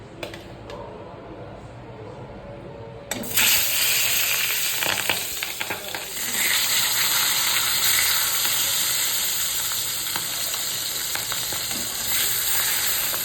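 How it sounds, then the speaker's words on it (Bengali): Fish frying in very hot salted oil, a steady close sizzle that jumps louder after a few seconds as the fish goes in, with occasional scraping and spattering through the rest. "তেল খুব গরম হয়ে গেছে নুন দিয়ে দিলাম একটুখানি চলো মাছগুলো ভেজে নিই"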